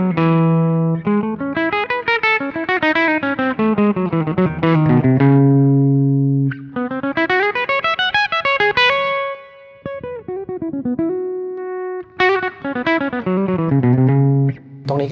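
Chapman ML3 Pro Modern electric guitar, a modern Tele-style model, played with the tone knob fully open: a bright, clean run of melodic single notes and sustained tones, close and alone with short pauses between phrases.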